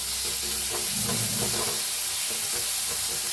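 Finely chopped onion, green chili and garlic fry in a pan for kat vada, giving a loud, steady sizzle with bursts of scraping and stirring close by.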